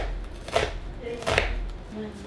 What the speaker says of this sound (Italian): Per preparare le cipolle le tagliamo a fettini sottili